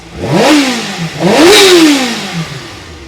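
A Kawasaki ZX6R Ninja motorcycle engine under restoration, close and loud, revving up sharply twice in quick succession, each rise falling back toward a low idle.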